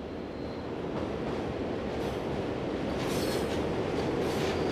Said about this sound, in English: a Class 62 arrives with the morning trip freight from Hasselt to Tessenderlo